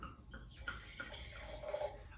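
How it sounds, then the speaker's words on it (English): A 2018 Georg Albrecht Schneider Niersteiner Paterberg Riesling Kabinett, a German white wine, is poured into a glass with a soft, trickling liquid splash and faint glassy tinkles, close and quiet with no talking. "I am pouring the Georg Albrecht Schneider 2018 Niersteiner Paterberg Riesling Kabinett."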